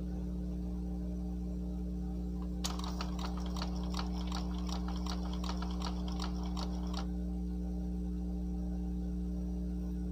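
An Epson L121 inkjet printer running a cleaning cycle gives a quick series of sharp mechanical ticks for about four seconds over a steady low hum, fairly faint and close.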